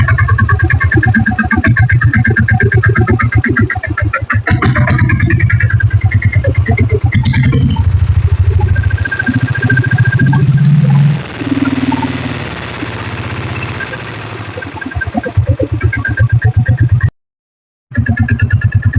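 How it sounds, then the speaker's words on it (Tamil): A 1995 diesel Bullet motorcycle engine chugs at idle with a steady, rapid thumping beat, loud and close, briefly cutting out near the end. "இப்போ வண்டி ஸ்டார்ட் பண்ணி காட்டுற பாருங்க."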